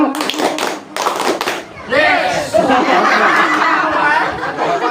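A group of guests at a home sharing gathering clap together on cue in a burst that starts around two seconds in and stays loud and dense, with chuckles and talk mixed in.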